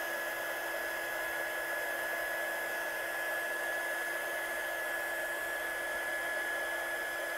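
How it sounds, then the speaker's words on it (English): A heat tool heat-setting a handmade Christmas card, a constant close blower hiss with a thin steady whine, unbroken and alone. "So I'm just heat setting this one."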